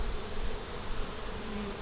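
Honeybees hum in a steady, close drone that holds without a break, with no voices.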